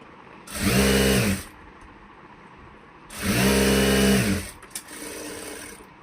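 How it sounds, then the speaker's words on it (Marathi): A sewing machine stitches blouse side seams in two loud, even bursts of about a second each, separated by quiet pauses, with a softer short run at the end. "तर आता पूर्ण शिलाई साईडून करून घेऊया."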